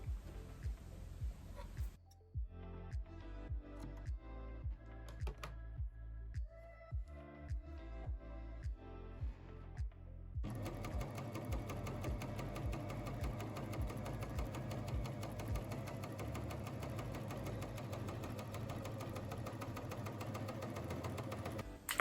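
Janome 3000 Coverpro coverstitch machine sewing over a thick seam, a rapid mechanical thumping that starts in short bursts, pauses, then runs steadily and louder for the last half, no talk.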